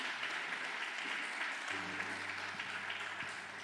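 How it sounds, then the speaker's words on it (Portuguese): A congregation applauds during a Thursday church service, a sustained, even wash of clapping from many hands throughout, fairly distant and soft, with a low held tone from an instrument joining partway through. "Será que você pode aplaudir a Jesus nessa hora?"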